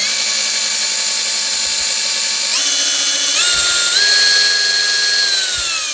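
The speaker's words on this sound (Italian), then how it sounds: "Proviamo anche sull'avvitatore più grande" A TOPSHAK 20V cordless drill driver runs loud and steady on its own, its whine stepping up in pitch several times as the speed climbs, then easing slightly toward the end.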